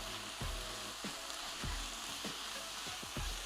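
Garlic and thyme leaves frying in a pan for a vegan one-pan dinner: a steady loud sizzle with regular stirring scrapes about every half second, close up with no talk.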